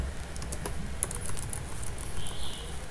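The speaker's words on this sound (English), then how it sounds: "It's awesome to just press spacebar and drop dots." A computer keyboard clatters with quick, uneven keystrokes and light taps, close and fairly soft, with no talking.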